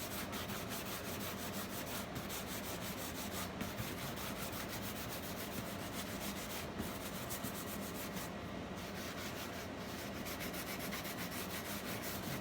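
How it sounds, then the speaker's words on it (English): Steady, close rubbing and scraping of sandpaper on a surface, a continuous gritty hiss with quick back-and-forth strokes. "Sanding."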